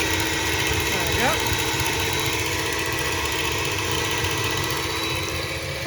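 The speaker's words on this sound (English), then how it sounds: "you whisk it until it starts fluffing" An electric whisk beats a homemade ice cream mixture in a home kitchen, a steady, loud mechanical whir that hums on without a break.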